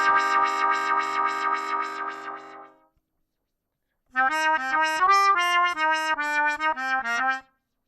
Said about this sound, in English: Next I'm going to add a filter and give it a wah-wah effect with an LFO.